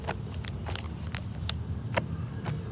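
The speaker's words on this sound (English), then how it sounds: "you can hear, all of the traffic surrounding us" Vehicle traffic surrounding a waterside park during Bike Week, heard as a steady low rumble of passing cars and motorcycles in the distance, with a few faint clicks and knocks nearby.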